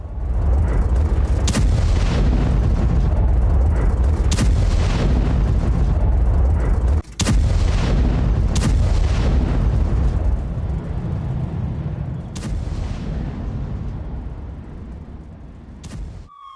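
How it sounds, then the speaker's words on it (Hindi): Repeated heavy booms and sharp blasts of Israeli bombardment in Gaza over a constant deep rumble, some sudden and close, others distant, with no voices. "ये धमाके की आवाज आप जरा सुनिए।"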